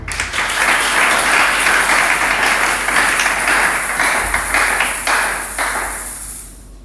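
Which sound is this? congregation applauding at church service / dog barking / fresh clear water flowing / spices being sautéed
congregation applauding at church service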